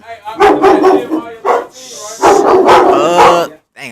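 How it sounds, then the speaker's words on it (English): Several dogs bark excitedly outdoors in a wilderness setting, loud overlapping bursts of barking and yipping in two clusters close to the listener, with a brief pause between. "I don't know why the dogs all got crazy"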